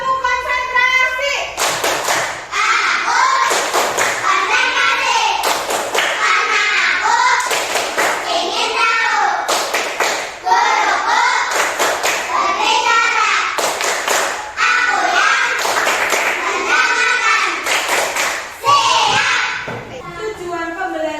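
A class of schoolchildren clapping a call-and-response rhythm with their teacher, sharp bursts of hand claps in repeated patterns alternating with chanted phrases, loud and close in a classroom.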